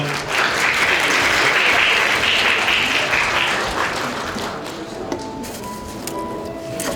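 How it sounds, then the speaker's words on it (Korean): Wedding guests at a Seoul hotel ceremony applaud warmly before a congratulatory speech, a dense steady clatter that gradually thins and fades, with a faint tone sounding under the dying claps. "오늘의 축사 큰 박수로 함께 만나보겠습니다"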